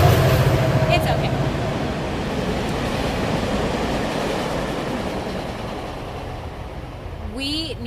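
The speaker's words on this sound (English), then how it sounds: "here comes a train" A passing train rumbles steadily as a broad, noisy roar that fills the scene and carries on throughout, with a brief clatter and a horn-like tone near the end.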